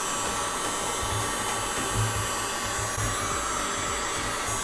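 A hair dryer or heat gun blows heat onto 3M vinyl wrap being fitted to the interior trim of a Fiat Barchetta. It makes a steady, close, continuous whooshing roar with no talking.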